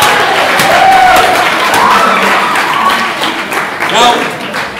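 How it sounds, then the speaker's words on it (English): Wedding guests applaud and cheer during a best man's speech, a loud, dense burst of clapping with whoops and shouted voices, sustained throughout. "can we please have a round of applause?"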